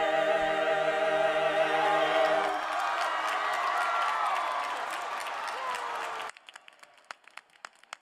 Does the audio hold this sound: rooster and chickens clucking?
no